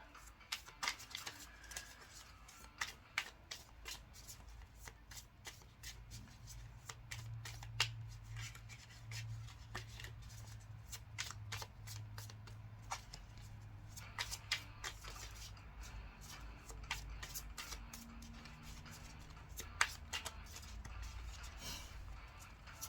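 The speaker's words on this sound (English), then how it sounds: "I'm going to just pull some extra cards for this one" Tarot cards are shuffled over and over in a quiet room, with rapid papery riffles and soft taps in uneven bursts, close up and faint, with a low background hum.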